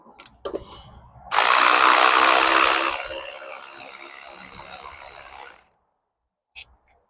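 A power tool undoes 13mm bolts on the tensioner assembly of a 2.0T FSI engine during a thermostat replacement. It gives a loud, close whirring burst of about four seconds after a few clicks, trailing off into silence and one last click.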